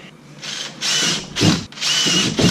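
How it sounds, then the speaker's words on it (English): A power drill bores marked holes into the hull of a Native Propel kayak during a rudder cable upgrade, running in three close, loud bursts that rise and fall with short pauses between them. "Marked out to be drilled."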